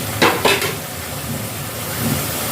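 Roasted spice mix of ground coriander and panch phoron being stirred into a simmering amla-tamarind pickle, two quick scraping strokes up front followed by a soft, steady sizzle.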